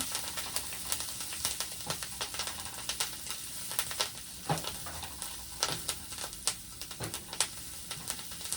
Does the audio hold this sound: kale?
yes